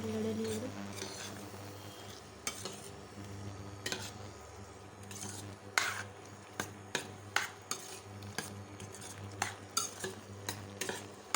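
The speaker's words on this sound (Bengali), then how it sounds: "এবার আমি পোস্ত দিয়ে দেবো। ভালো করে নেড়ে নিয়ে দেবো।" Poppy seeds being stirred in a cooking pan for a Bengali dish, with soft scraping and occasional sharp clinks of a utensil against the pan over a faint low sizzle, close and quiet.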